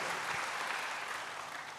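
A church congregation claps together in a sustained wash of applause, dense and steady throughout the brief moment, heard from within the crowd.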